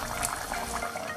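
Half a cup of water pours into a pan of Bengali dry fish curry with a brief, close, steady liquid splash and gurgle.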